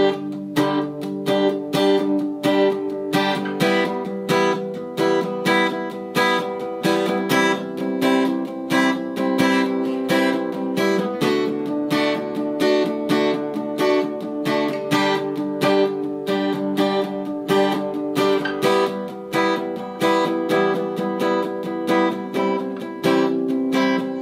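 Acoholic guitar strumming the chords of a song at close to full speed, a steady rhythmic pattern of bright chord strokes played alone and close with no talking.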